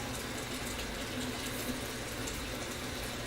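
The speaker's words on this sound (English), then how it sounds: "Sorry, I'm adding some hot water." Hot water runs steadily from a tap, a continuous broadband rush that stays even throughout and sits fairly quiet and close.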